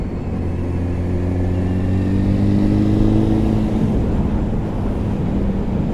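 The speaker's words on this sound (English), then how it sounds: "This one has been detuned, the old 919 Fireblade motor." A detuned Honda 919 Fireblade inline-four motorcycle engine runs at a steady idle, close and loud, with an even, humming drone and no voices.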